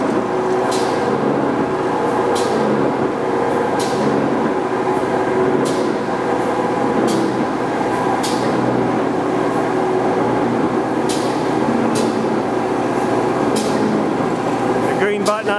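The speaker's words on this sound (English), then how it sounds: "Now he's going to change the variable speed. Speeding the press up." AIDA gap frame press running at increased speed, a loud continuous mechanical drone with regular sharp stamping clicks roughly every second.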